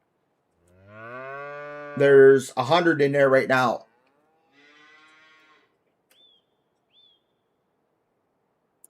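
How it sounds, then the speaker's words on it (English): Highland cows in Farming Simulator 25 give long, harmonic moos, a drawn-out call followed by a louder, choppier burst, then fall quiet apart from faint chirps; someone speaks briefly during the lowing. "I've got the cows here. They're the Highland cows, though."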